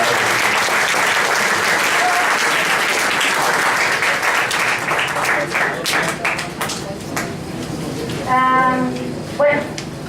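Loud, dense applause from an audience at a lecture event, sustained for several seconds before thinning out, with a voice briefly speaking near the end.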